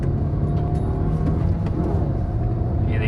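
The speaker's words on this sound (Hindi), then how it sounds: "अब गाड़ी चलाते हैं और गाड़ी देखो चलने वगैरह में कैसी है" A Maruti Victoris car running on CNG drives along a road, its steady low engine and road rumble heard from inside the cabin, loud and continuous with no talk.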